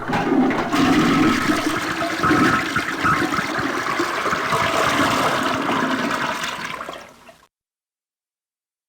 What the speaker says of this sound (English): complete with a nasty and overly long flushing noise